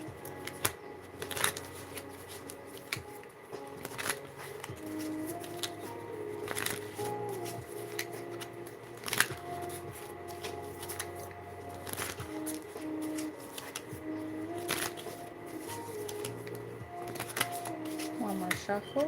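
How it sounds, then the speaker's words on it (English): Tarot cards being shuffled during a live reading: a steady run of soft papery riffles and flicks, close and fairly quiet, with speech-like murmuring present throughout. "One more shuffle."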